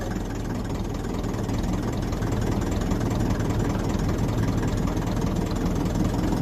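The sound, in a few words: 1954 Ferguson TEF 20 diesel tractor engine lifting a load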